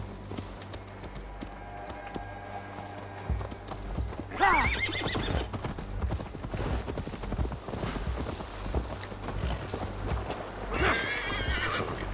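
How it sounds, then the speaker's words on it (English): Video game horse hooves clip-clop steadily at close range while the horse whinnies loudly twice, once midway and again near the end, in Assassin's Creed Valhalla. "Now to deliver Magni his horse"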